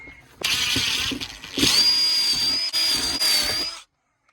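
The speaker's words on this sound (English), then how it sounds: "And then I just have to drill the holes right here" A loud power drill whirs in several bursts, drilling holes for wires, pausing briefly between runs and stopping abruptly at the end, with a high whine riding on the motor.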